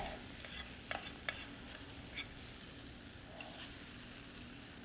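Glazed butternut squash, carrots and turnips sizzle softly in a pan, a low steady frying hiss broken by a few light stirring clicks.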